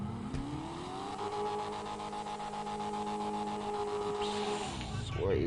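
GTA V car engine revving in the game as the car accelerates, a steady droning tone with climbing pitch, with a rising whoosh near the end.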